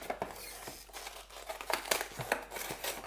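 Cardboard backing of a Nintendo amiibo package is pulled open by hand, giving a close series of crinkling and tearing rips with sharp crackles through the middle and end.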